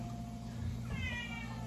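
A single cat meow rises briefly over a low, steady background hum, fairly close and moderately loud.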